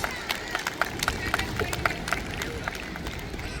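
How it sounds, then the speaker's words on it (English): A ceremony audience claps for the chief guest, a steady patter of crowd applause with sharp individual claps standing out, carried under murmuring voices for a few seconds. "We request everyone to give our esteemed chief guest a grand round of applause."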